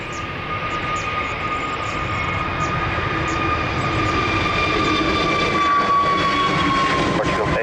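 A jet airliner on approach to Lisbon Airport, its engines making a steady, fairly loud drone with a high whine that holds throughout, mixed with broadband rumble and no pauses.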